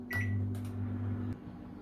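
A microwave oven is set to preheat at 180 degrees for baking an eggless chocolate sponge cake, giving a short high beep followed by a steady low hum that stops after about a second.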